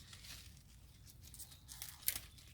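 Lower leaves torn off brassica plants during a garden harvest give faint, crackly tearing and crinkling sounds, with a sharper snap near the end and no talking.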